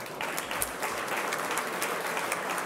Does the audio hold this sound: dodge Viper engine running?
no